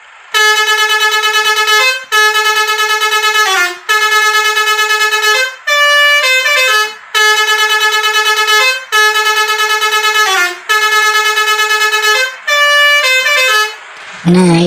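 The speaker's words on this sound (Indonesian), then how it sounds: "Bunyikan klakson telolitnya dulu teman-teman" A loud telolet bus horn in Bus Simulator Indonesia plays a repeating musical pattern of bright multi-tone blasts, about eight sustained phrases separated by short gaps, close and dominant, ending in a brief burst of other game noise.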